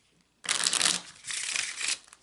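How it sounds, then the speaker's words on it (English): A deck of playing cards being shuffled by hand on a table, two bursts of crisp riffling flutter separated by a short pause, close and fairly loud, with no talking. "I'm going to take a few moments to shuffle the cards."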